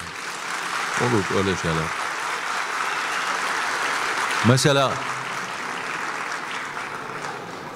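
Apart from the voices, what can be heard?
audience applause at a poetry talk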